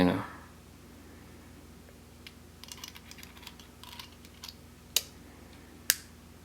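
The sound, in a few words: click of Imperia RTA vape tank mechanism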